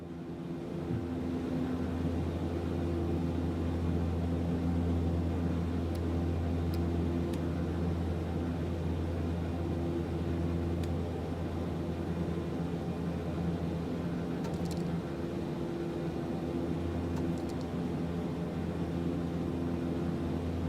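Twin propeller engines of a Beech Starship in a flight simulator, a steady loud droning hum with constant tonal whine throughout, interrupted only by faint clicks.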